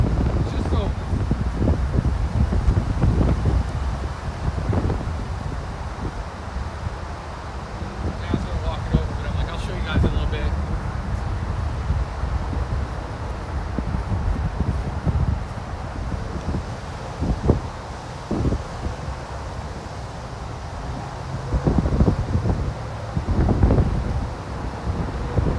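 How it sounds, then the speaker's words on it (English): Strong wind gusts outdoors in a Canadian winter setting, roaring steadily against the microphone in a loud, continuous rumble with brief louder surges. "that wind's zipping."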